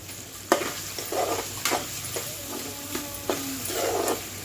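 A spoon scrapes and stirs through cucumber and prawn curry simmering in a pan, giving repeated sharp scraping strokes over a soft, steady sizzle, close and fairly quiet with no talking.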